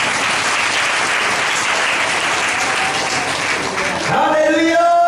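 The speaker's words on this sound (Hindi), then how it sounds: "जोरदार ताली बजाएंगे।" Loud church congregation applause at a prayer service, steady dense clapping for about four seconds, then a sustained tone and voices rising as it fades.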